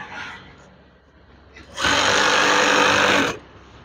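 A sewing machine stitches along the hem of a wide curtain, about 190 by 230 centimetres, in one loud, steady burst of roughly a second and a half, with quieter handling noises before and after.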